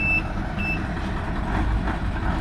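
A reversing truck sends out a couple of short, clear warning beeps over a low engine rumble in a storm-damaged area on Siargao Island, fairly close, with no talking.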